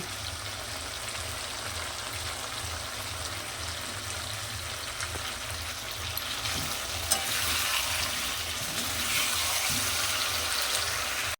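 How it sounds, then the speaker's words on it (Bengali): Meat for biryani sizzles and fries steadily in a pan while being stirred, a continuous loud hiss with occasional scraping clatters from the spoon, no talking. "বিরিয়ানির মাংসটা কষিয়ে নিচ্ছি।"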